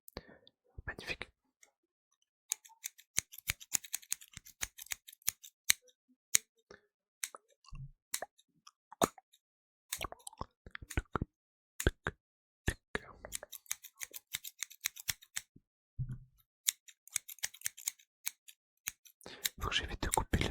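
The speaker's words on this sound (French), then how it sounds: "Je vais prendre un truc que j'ai jamais fait sur la chaîne aussi également, un petit ciseau tout simplement." Small scissors snipping close to the microphone in a quiet room, a long run of crisp, irregular clicks and cuts in clusters separated by silences, with occasional soft whispering.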